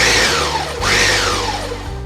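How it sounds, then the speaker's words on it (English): A blender pulses salsa made with garlic and cilantro, a loud whirring motor whose pitch sweeps down, briefly drops, then spins up again before settling. "We turn on our blender and pulse it until we're happy with it."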